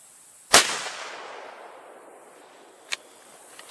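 A CVA Cascade rifle in 22-250 fires unsuppressed: one loud, sharp crack followed by a long rolling echo. Two fainter, shorter reports follow later.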